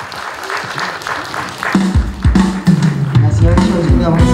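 A concert audience at a 2019 peace and unification concert applauds as a singer is introduced, steady clapping filling the room with a host's voice over it and some thumps mixed in.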